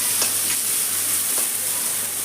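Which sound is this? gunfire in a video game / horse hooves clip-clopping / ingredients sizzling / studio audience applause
ingredients sizzling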